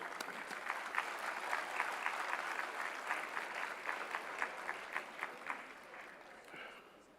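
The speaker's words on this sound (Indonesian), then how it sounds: "Kita tepuk tangan." Applause from a large assembly, moderately distant, with dense clapping where individual claps stand out more toward the end as it thins and fades.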